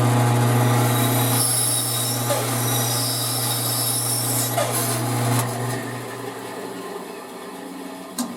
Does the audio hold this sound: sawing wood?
yes